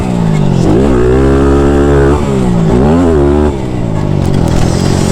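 Thumpstar TSX140 pit bike engine revving loudly up and down through the gears on a track, rising and falling buzzy tones held close and continuous for about five seconds.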